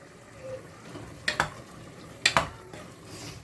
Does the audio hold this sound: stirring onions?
yes